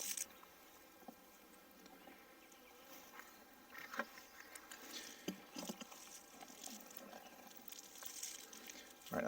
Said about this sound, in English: it's just bees walking around being bees